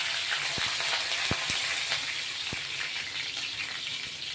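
A green chilli spits in hot tempering oil with cumin and curry leaves, a continuous close sizzle broken by occasional crisp pops.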